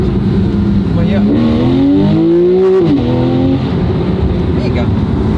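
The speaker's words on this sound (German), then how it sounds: "Eine Sportabgasanlage ist das Perfekte, was Porsche gemacht hat für das Fahrzeug." A Porsche 991 fitted with a sport exhaust system revs loudly and close, its engine note climbing and falling in a rising, wavering tone, with speech alongside.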